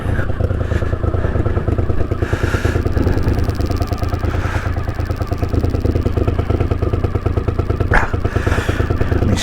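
A 1981 Honda CX500 motorcycle engine idling nearby, loud steady throbbing rumble with a few sharp clatters and brief bursts of higher noise.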